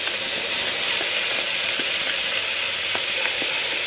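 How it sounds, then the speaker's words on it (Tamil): Steady, close sizzling of tomatoes sautéing in a pan for vegetable biryani, with a few faint scraping taps from stirring. "அதையும் சேர்த்து நல்லா வதக்கி விட்டுக்கலாம்."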